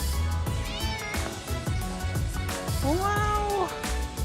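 A cat in New York City meows twice, a higher call early on and a longer, louder one later, close by over a steady low rumble of city background.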